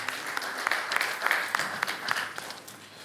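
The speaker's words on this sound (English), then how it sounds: "Can we clap for him, please?" A conference audience applauds the keynote speaker with moderate clapping, individual claps standing out as sharp peaks within a thinner, steady round of applause from a modest crowd.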